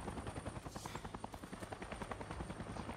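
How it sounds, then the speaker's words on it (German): A helicopter in the video game Avatar: Frontiers of Pandora makes a steady rotor thrum with fast rhythmic blade chopping, continuous and fairly distant. "Ist da noch ein Helikopter?"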